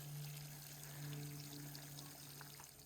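Water from a stream pours and trickles steadily into water bottles, fairly quiet, with a low humming tone underneath and no voices.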